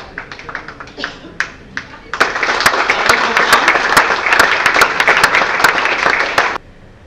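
Audience applause at an evening opening event for the Salon Athéna 2017, a few scattered claps building into a loud, dense round of clapping that holds for several seconds before stopping abruptly.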